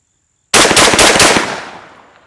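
Four rapid, loud shots from a TriStar Viper G2 semi-automatic shotgun firing Remington rifled .410 slugs, fired in a quick burst and followed by a fading echo.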